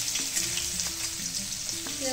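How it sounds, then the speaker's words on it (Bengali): Onions fry in a pan with chili and bay leaf for a cabbage and fish-head dish, giving a steady, close sizzle that runs unbroken throughout with no talking. "পেঁয়াজটা সুন্দর করে ভেজে নেব।"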